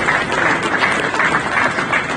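An audience at a formal event introducing a government infrastructure official breaks into sustained applause, a dense, steady patter of many hands clapping throughout.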